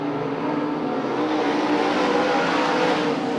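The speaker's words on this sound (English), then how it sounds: "Josh Adams just throwing that car into the corner, but not any harder than Zaremski" Race car engines roar loudly at Gallatin Speedway in 2003, a dense sustained mechanical drone with rising revs as cars are pushed into a corner, no voices.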